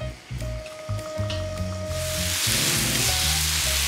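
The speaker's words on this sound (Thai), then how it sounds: "แล้วก็มาผัดหมูนะคะทุกคน" Pork stir-frying in a pan, starting with clattering utensil knocks over a low sizzle that swells into a loud, steady hiss of frying meat.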